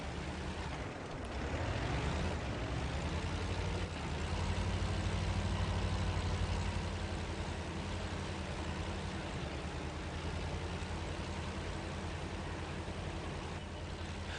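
A little tank's engine labouring as it pulls around a dune, a steady loud droning rumble that rises and strains slightly, with no talking.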